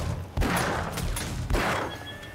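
Shotgun auto turret in 7 Days to Die firing a few heavy blasts spaced about a second apart, each a loud broadband burst over steady background noise, with no talking.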